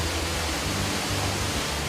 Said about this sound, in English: creating a natural amphitheater around Cedar Falls, enhancing the roar